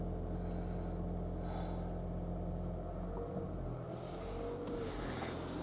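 The 1.8 hybrid engine of a Lexus CT 200h with CVT runs as a steady, close low rumble that shifts slightly in tone toward the end.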